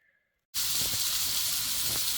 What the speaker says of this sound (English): I am frying some mushrooms and tender stem broccoli in garlic oil